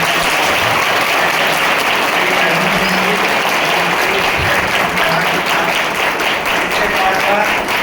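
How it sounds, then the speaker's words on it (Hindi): Loud, dense applause from an audience at a laptop distribution event for students, continuous clapping with some voices mixed in beneath it. "तो एक बार जोरदार ताली।"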